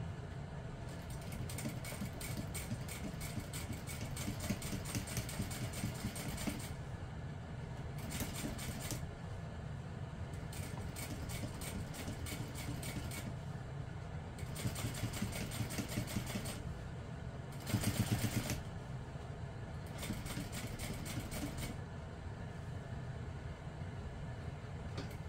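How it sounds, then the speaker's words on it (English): A sewing machine quietly top stitches a handbag panel in rhythmic runs of rapid needle chatter, broken by short pauses between bursts. "now we're going to top stitch directly beneath that top panel using a 1/8 inch seam allowance"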